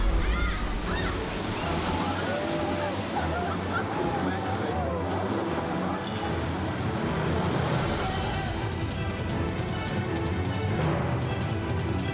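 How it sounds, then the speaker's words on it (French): Massive tsunami waves about 15 metres high crash ashore in a continuous, dense roar of churning surf and rushing water, loud and unbroken throughout, with voices faintly mixed in. "ce sont des vagues de 15 mètres de haut qui déferlent"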